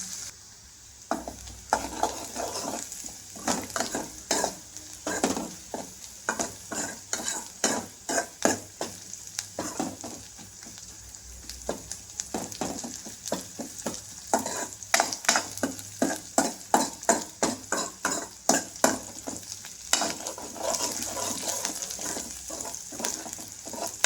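Onions sautéing in a pan for chicken liver thokku, a steady frying sizzle underneath dense, rhythmic spatula scrapes and clicks that continue for over twenty seconds, close and fairly loud, with no voices.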